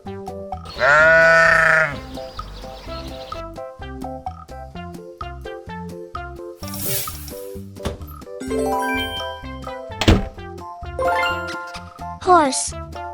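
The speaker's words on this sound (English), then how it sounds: "Sheep." Sheep bleating in a farm-animal lesson for children, a loud wavering bleat near the start followed by further bleats, with bright jingling chimes and a light musical backing throughout.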